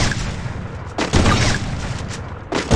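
Sniper rifle fire in Garena Free Fire: a couple of heavy, booming shots, the first near the middle and another at the end, cracking loudly over a steady rumble of game ambience.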